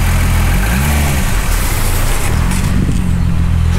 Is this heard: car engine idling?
yes